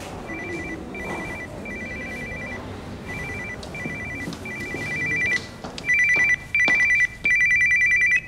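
A telephone ringing on an outgoing call, repeated electronic ringback tones in evenly spaced pulses, first moderate under room noise, then a louder, clearer run of rings near the end.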